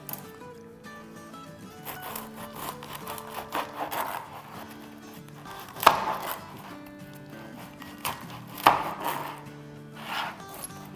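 A knife saws through a stack of twelve bread slices for a double ka meetha dessert, giving soft rasping strokes with two sharper crunching cuts near six and nine seconds, close and fairly quiet, with faint background music.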